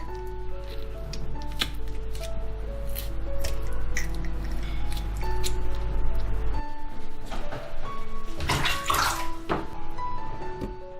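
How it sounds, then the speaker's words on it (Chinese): Soft squishes and wet pops close up as seeds are pushed out of washed hawthorn berries with a drinking straw, repeated in irregular bursts over a faint low hum, with no talk. "山楂洗干净，去掉中间的核，拿根吸管戳掉里面的籽。"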